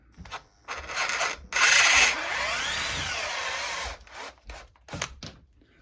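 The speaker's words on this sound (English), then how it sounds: "step one, we are going to over drill this." Bursts of a power drill over-drilling a bar stud hole in a Stihl MS462 chainsaw, biting into metal, a sustained whining grind in the middle flanked by short spurts and scraping.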